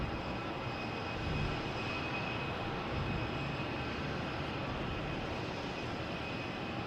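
Airliner departing Boston Logan Airport, a steady broadband engine roar that holds loud and constant throughout, like a plane climbing away nearby on takeoff with no voices over it.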